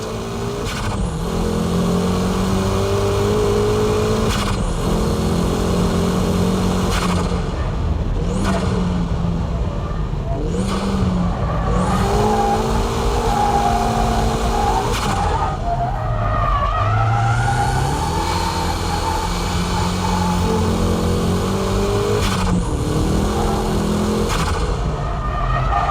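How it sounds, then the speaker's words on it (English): A car power-drifting through a corner exit, its engine revving and surging in repeated rising and falling sweeps while the tires skid and squeal continuously, loud and close throughout, with no voices. "Here I'm power drifting at the exit."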